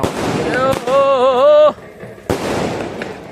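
A 30-shot firecracker cake going off outdoors, with a whistling rising tone and sharp sudden bursts heard nearby, mixed with people talking.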